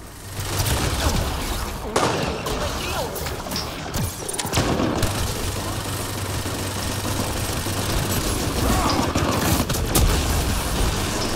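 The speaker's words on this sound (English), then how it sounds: "I can't believe how far that destroyer's bullets come." Rapid automatic gunfire from a Destroyer in the Apex game keeps up as dense, continuous bursts of shots, loud and steady through the whole stretch over rumbling game noise.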